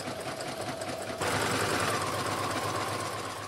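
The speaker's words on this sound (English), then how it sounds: "we're just going to simply zigzag all the way around the raw edge of these two pieces" A sewing machine runs a continuous zigzag stitch along the raw edges of two pieces of swim-short fabric, a steady close mechanical whir that steps up louder after a second and keeps going without any talking.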